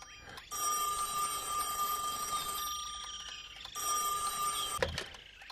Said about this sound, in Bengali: ঠিক এই সময়ই বাজতে হতো ফোনটাকে